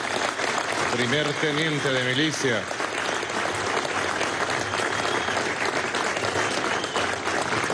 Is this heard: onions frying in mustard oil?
no